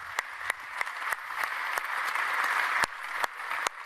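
An audience applauding to welcome a woman back at a trade congress, sustained steady clapping from a large hall crowd with a few sharp louder claps standing out throughout.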